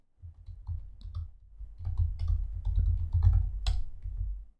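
A computer mouse clicks quickly several times while a new folder is created on a computer, light and close up, with soft desk handling sounds in between.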